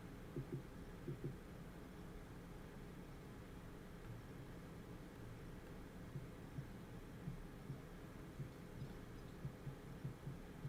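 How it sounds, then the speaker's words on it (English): A heartbeat sound effect played on a PC, faint rhythmic low thumps repeating steadily over a constant hum. "I need a single heartbeat."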